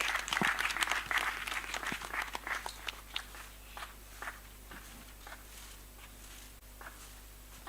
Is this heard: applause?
yes